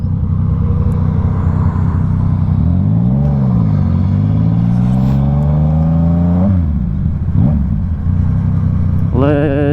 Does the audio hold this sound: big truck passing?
yes